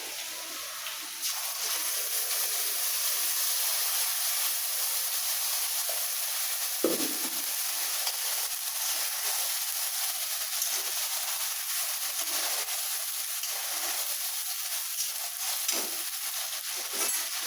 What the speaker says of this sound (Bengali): এই পেঁয়াজটা দেখো ভাজা হয়ে গেছে, মশলা দিয়ে কষিয়ে দেবো।